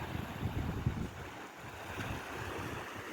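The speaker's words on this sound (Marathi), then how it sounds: "ही बोट आली" A boat pulls in at an island in a steady wash of water and wind rumble, with low engine-like churning near at first and then easing off.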